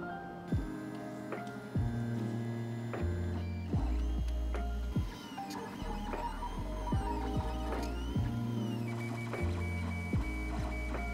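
A 3D printer prints speaker mounts for a Mercedes SL350 audio upgrade, its stepper motors sounding a rhythmic series of shifting tonal whirs and chirps, close and moderately quiet, with no voices.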